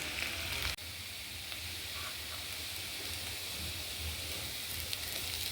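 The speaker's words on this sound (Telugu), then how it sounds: "మీడియం ఫ్లేమ్లో పెట్టుకొని ఇలా బాగా ఫ్రై చేసుకోవాలి" Ginger and garlic pieces for pickle frying in oil over a medium flame, giving a steady, close hiss and crackle with one brief clatter near the start and no speech.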